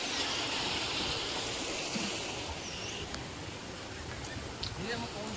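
Fast-flowing water at Badaghagara waterfall in Keonjhar, a steady, loud broadband rush that fills the whole stretch without pause, with faint voices now and then in the background.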